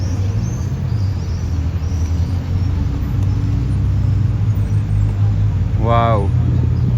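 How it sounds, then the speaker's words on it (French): A Bugatti Divo supercar drives along a Monaco street behind another car, a loud steady engine rumble with traffic noise around it, and a brief higher whine near the end. "La Divo arrive derrière la 812."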